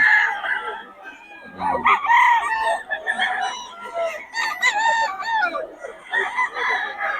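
A Sweater gamefowl rooster of Boston bloodline crows in repeated rising calls, answered by other roosters and clucking fowl nearby, with faint background voices.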